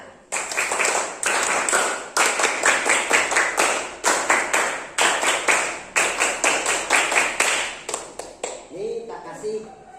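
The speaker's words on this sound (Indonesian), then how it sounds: "Ayo kita sedikit bersama-sama. Tepuk semangat." Primary-school pupils in an Indonesian religion class perform a rhythmic spirit clap, sharp group claps in quick patterned bursts with brief pauses, close and loud, with children's voices mixed in.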